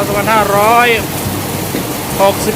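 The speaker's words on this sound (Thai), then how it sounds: "ฝนตกหนักมากครับราชบุรีครับ" Heavy rain falls steadily in Ratchaburi, a constant broadband wash running the whole way through, with a voice speaking over it near the start and again near the end.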